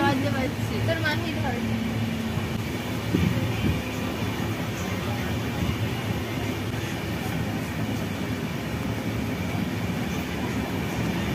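Interior of a moving passenger train during a group trip, with a steady low rumble and rattling of the carriage, clicks from the wheels, and people chattering throughout.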